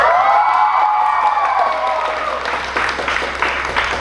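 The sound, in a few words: audience applause and cheering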